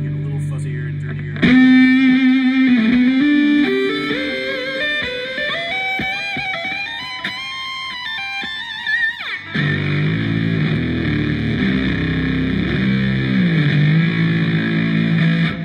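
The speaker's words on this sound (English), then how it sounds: "And then the Ratt distortion pedal." An electric cello runs through a Rat distortion pedal for a fuzzy, dirty, effects-heavy tone. A rising line of bowed notes is followed by a rougher, lower passage, loud and continuous throughout.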